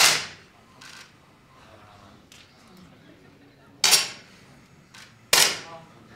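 Sharp, close cracks of 10m air pistols firing in an ISSF World Cup men's final in Changwon, one shot at the start and two more spaced apart later, with quiet between them.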